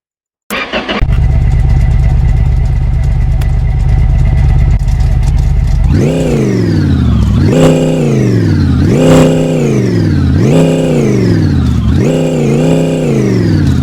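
Lada car engine in the game My Garage cranking and catching, idling steadily and loudly, then revved repeatedly in five rising-and-falling surges, no talk.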